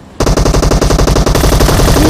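A Groza rifle firing in the mobile game PUBG Mobile: a loud, rapid, sustained burst of evenly spaced automatic shots right up close, with no talking over it.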